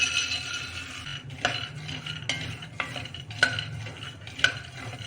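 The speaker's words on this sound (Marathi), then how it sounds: "प्रथम आपण शेंगदाणे मंद आचेवर भाजून घेऊ खरपूस" Peanuts being stirred and dry-roasted on low heat in a pan, a series of distinct rattling scrapes of a spoon every second or so over a faint hiss, close and moderately quiet.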